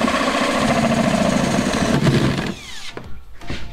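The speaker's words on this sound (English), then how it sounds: "So I'm gonna drill a hole here" A power drill bores a hole into a kayak hull, running loud and steady for about two and a half seconds close by, then dropping away to a quieter whir and winding down.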